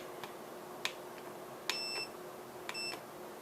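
Sharp short multimeter continuity beeps sound while the probes test a TRS cable: a few quick clicks, then two sustained electronic tones, close and fairly quiet.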